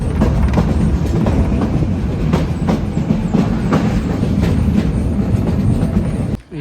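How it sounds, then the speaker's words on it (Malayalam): A train on the Goram Ghat line in Rajasthan pulling into its last stop: a loud, close rolling rumble with rhythmic clickety-clack of wheels over rail joints, steady throughout with no talk. "ഈ ട്രെയിനിൻ്റെ അവസാനത്തെ സ്റ്റോപ്പ് എത്തിയിട്ടുണ്ട്."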